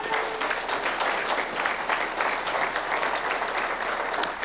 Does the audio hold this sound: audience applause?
yes